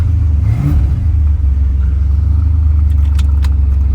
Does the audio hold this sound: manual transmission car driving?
yes